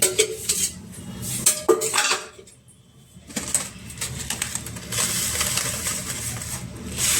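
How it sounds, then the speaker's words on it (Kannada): Oil spooned into a metal kadai on a home stove: a few quick metallic clinks and scrapes, then a short near-silent pause before more clattering and a faint background sizzle, with bird cooing outside. "ನಾನು ನೋಡಿ ಕಡಾಯಿ ಇಟ್ಟಿದ್ದೀನಿ ಇವಾಗ ಎಣ್ಣೆ ಹಾಕ್ತಾಯಿದ್ದೀನಿ"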